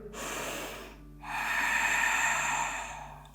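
A deep exhale during a yoga session, moving into Warrior III: a short breathy burst, a brief pause, then a longer, louder, steady outbreath close to the mic, with no talking.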